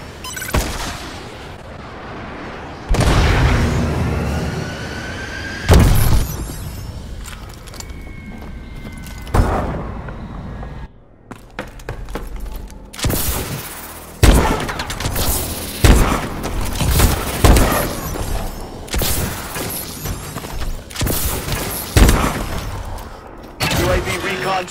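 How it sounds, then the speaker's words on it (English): Missile strike explosions in the video game Call of Duty Advanced Warfare: repeated loud booms and gunfire bursts in irregular clusters, with game announcer voice lines over the battle noise. "Friendly missile strikes incoming."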